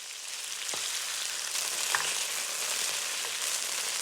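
Shrimp fry in hot oil in a pan, an even, fairly soft sizzling hiss with a couple of faint clicks, steady throughout with no talking.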